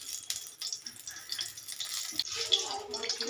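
Cooking oil poured into a pan, a faint, hissy trickle with light sizzling, quiet and close throughout.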